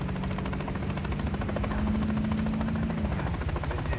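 A helicopter sits on the ground in the Call of Duty Modern Warfare III campaign, its rotor giving a loud, steady rhythmic thumping with a low engine hum that rises and then drops in pitch, with no talk.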